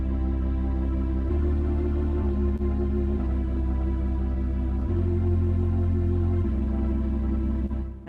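A church-style organ plays an alternate ending to a piece in a lesson setting, sustained low chords shifting every second or two, full and steady throughout with no talking.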